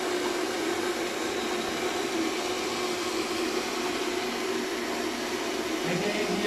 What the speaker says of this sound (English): Now you can observe also hydraulic pump.